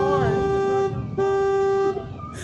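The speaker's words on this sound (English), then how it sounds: "Do you think somebody's honking at the driver?" A car horn sounds close and loud in two sustained blasts separated by a short gap, followed by fainter traffic noise.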